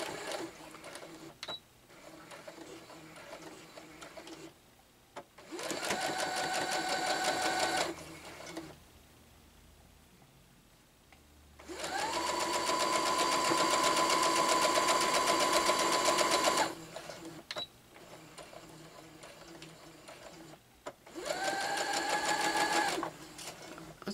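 A sewing machine stitches the pieces of a Churn Dash quilt block in three bursts of rapid, buzzing whirr, each several seconds long, separated by quieter pauses with small handling sounds, close and clear.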